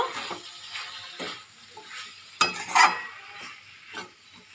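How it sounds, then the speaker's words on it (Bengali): Chilli and cumin powder stirred in a frying pan with a soft sizzle, while a spoon scrapes and clinks against the pan in a few brief, uneven strokes. "লঙ্কার গুঁড়ো জিরের গুঁড়ো দিয়ে আমি একটু নেড়ে নেব"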